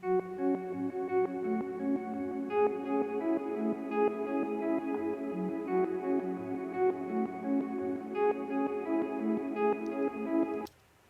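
A Moog synthesizer lead plays a flowing line of sustained tones washed in heavy delay and reverb, with a faint noise bed underneath, moderately quiet and alone, cutting off at the end.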